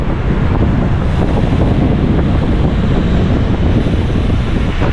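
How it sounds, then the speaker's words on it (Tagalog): Strong wind roars and buffets the microphone in a loud, constant rush with no let-up. "Lakas ng hangin."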